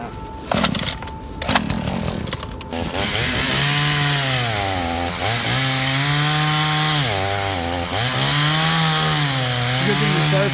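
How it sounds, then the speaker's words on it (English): A chainsaw cuts into a dead tree, its engine droning loud and close with pitch dips as the chain bites and recovers, preceded by a few seconds of handling clatter. "You just want to start cutting?"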